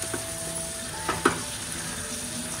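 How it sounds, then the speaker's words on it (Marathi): Tomato frying in a pan for a spinach-paneer scramble, a soft, even sizzle with a couple of brief clinks and scrapes from a utensil near the middle. "टॅमॅटोला पण मस्त फ्राय करून घ्यायचंय."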